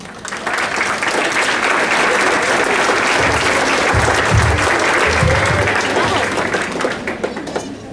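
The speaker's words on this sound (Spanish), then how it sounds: "recibir con un fuerte aplauso" A large crowd at a graduation ceremony applauds loudly and steadily for several seconds, dense clapping filling the room with a few low thumps underneath.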